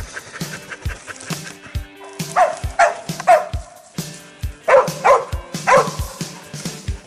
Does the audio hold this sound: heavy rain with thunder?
no